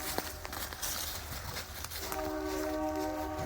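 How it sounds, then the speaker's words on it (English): A train passes at a distance in the countryside, sounding a sustained horn that rises out of steady rumbling and clatter. "Train's coming, babe."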